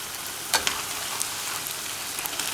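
Steady crackling sizzle of luqaimat dough frying in hot oil, with a few sharper pops now and then, continuous and fairly close.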